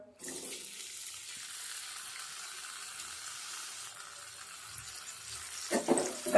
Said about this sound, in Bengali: লাল করে পেঁয়াজটাকে আমি ভেজে নেবো